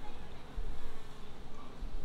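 Honeybees packed densely in an open hive hum with a low, continuous, throbbing drone, close and steady, with the pitch wavering slightly as the swarm shifts.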